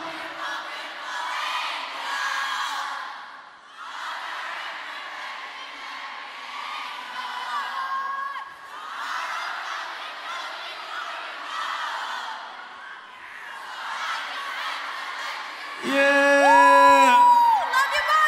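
A New York arena crowd at a Jingle Ball concert cheers and whoops loudly and steadily throughout, with a louder surge near the end where a voice shouts over the roar.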